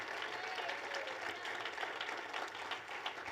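Faint, distant clapping from a church congregation during a sermon, a steady wash of applause heard alone and low in level throughout.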